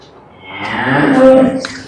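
A cow moos once, a long drawn-out low call that swells and then fades, loud and close, with no talk over it.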